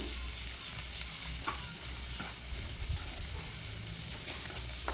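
Dried red chillies sautéing in a hot pan for a coriander chutney, a steady close sizzle and fry crackle running throughout with occasional stirring scrapes and no talk.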